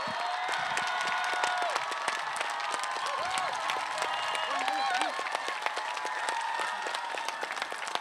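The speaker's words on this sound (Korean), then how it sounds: "한동훈 전 국민의힘 당대표에게 큰 박수를 보내주시기 바랍니다" Supporters at Han Dong-hoon's announcement of his run for the 21st Korean presidential election burst into applause, a dense crowd clapping with cheers and shouting mixed in, continuous and steady, with voices calling out over it.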